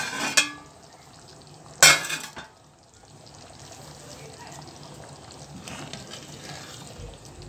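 A metal lid lifted off a pot of anchovy curry, with a sharp clank and then a louder clatter of metal, followed by a low simmering hiss as a voice speaks softly nearby.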